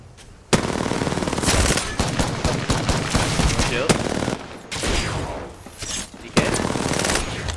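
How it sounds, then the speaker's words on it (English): Sustained automatic gunfire in Apex Legends comes in several long, loud bursts, each cut off by short pauses, close and dense with rapid repeating shots. "I'm just gonna keep shooting."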